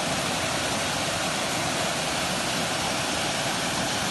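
A waterfall by the old ornamental bridge at Hagley Hall, Staffordshire, pours in a constant, dense rushing hiss with no pauses, heard alone without voices.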